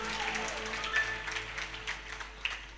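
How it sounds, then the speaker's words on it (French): Applause from a church congregation during a French-language sermon, a moderate wash of clapping that swells and fades over a few seconds with no talk over it. "Acclamation. Applaudissez."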